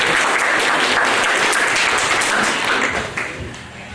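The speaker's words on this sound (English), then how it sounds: "Let's give another big round of applause" Sustained applause from an audience at a hypnotist show, dense and steady, fading slightly toward the end.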